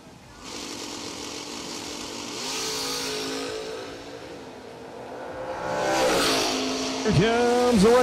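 Drag race cars at a drag strip, a Chevy II among them, engines revving and rising in pitch as they launch and pull away, loud and rough, under a commentator's voice.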